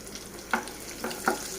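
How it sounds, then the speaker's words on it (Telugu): Mustard seeds and cumin tempering in hot oil for a fried amaranth-greens dish, heard as a faint, steady sizzle broken by two or three sharp crackles and pops. "హీట్ ఎక్కిన వెంటనే మనము కొంచెం ఆవాలు జీలకర్ర ఇందులో వేసేసుకోవాలి"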